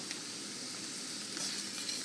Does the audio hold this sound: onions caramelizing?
yes